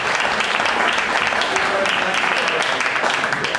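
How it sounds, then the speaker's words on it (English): Wedding guests clap in a steady, dense round of applause lasting several seconds, filling the room evenly without a break. "A small round of applause."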